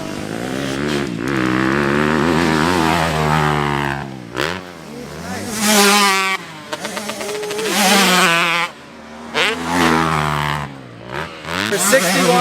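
Several motocross bikes ride a New York track, engines buzzing and revving up and down as riders pass near and far, with someone talking over the loud, changing whine.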